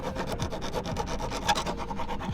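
Metal file rasping along the edges of a Nuespeed short shifter part for a Fiat Abarth 500: quick, even back-and-forth strokes, loud and close, with no speech.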